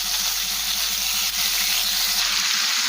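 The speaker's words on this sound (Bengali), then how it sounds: "এখন এই তেলের মধ্যে দেবো কিউব পিসেস করে কেটে রাখা পনির।" Paneer cubes fry in hot oil seasoned with salt and turmeric, giving a loud, steady, close sizzle that continues without a break.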